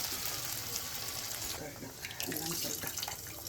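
Tamarind water pours steadily into a pan, a soft continuous splashing and trickling that is quiet and close.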